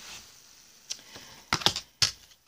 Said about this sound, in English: I'm going to cut the cards now and pull the top card